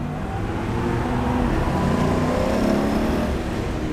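A 1960 Corvette engine pulls steadily under acceleration on bias ply tires, a continuous loud drone with rising pitch and road noise and no clear breaks.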